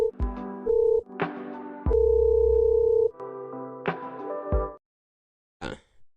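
A telephone line plays tones for an incoming call: steady electronic beeps in several on-off bursts, each a second or so long, fairly clear, then a brief gap before a short final sound.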